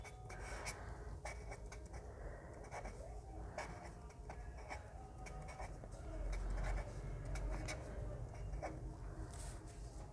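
Pen scratching across paper as maths steps are written out by hand, a steady run of faint strokes and taps over a low room hum, with no talk.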